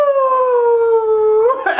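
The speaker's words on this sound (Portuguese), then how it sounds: "Não, ele não é um cachorrinho. Ele é um lobo." A single loud, sustained wolf howl held on a steady tone, close and clear, then breaking off with a rougher rising yelp at the end.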